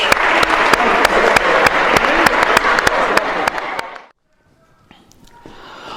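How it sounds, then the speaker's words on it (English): Audience at a live mentalism stage show claps loudly and close for about four seconds, with sharp hand claps standing out, then it cuts off abruptly to near silence before faint sound returns. "Round of applause for everyone."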